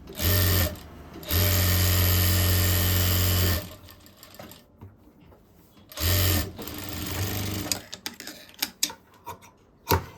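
A sewing machine stitches a strip around the edge of a sleeveless blouse in loud, steady bursts separated by short pauses, ending in lighter mechanical clicks.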